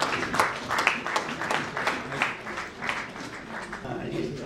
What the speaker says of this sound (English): Let's extend our heartfelt applause, please.